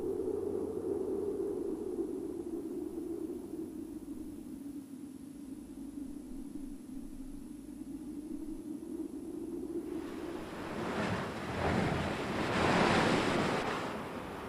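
Ocean surf washes against a coastline in a steady, loud roar, with a larger breaking swell swelling near the end; no voices.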